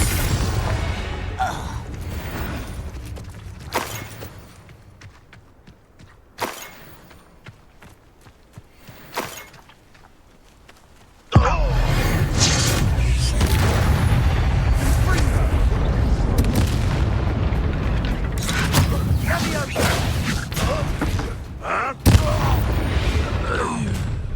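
A Confringo blast spell goes off in the video game Hogwarts Legacy: quieter rumbling and scattered hits give way to a sudden loud explosive boom, followed by a sustained roaring burst with further crashes.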